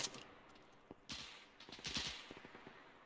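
Enemy machine gun fire in ARMA 3, distant and faint, with scattered bursts of rapid shots and sharp cracks over quiet ambient background, no talk.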